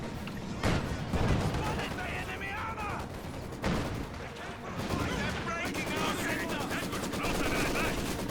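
A Maxim machine gun firing in Company of Heroes 2, with long rapid bursts rattling under a steady bed of battlefield gunfire and occasional heavier thuds, while a commentator talks throughout.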